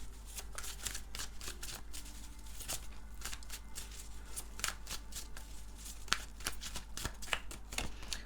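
Tarot cards riffled and shuffled by hand in a steady run of quick papery flicks, close and soft, continuing for several seconds without speech.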